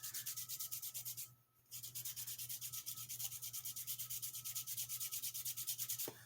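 Stick of charcoal rubbed back and forth on sandpaper to grind it into powder, a steady close rhythmic scratching with a brief pause early on, no talking.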